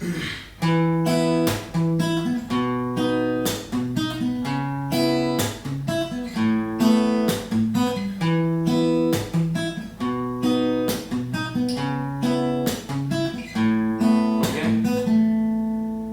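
A guitar strums the chord progression of a song in a steady rhythm, chords changing every few strums, played clearly with no voices.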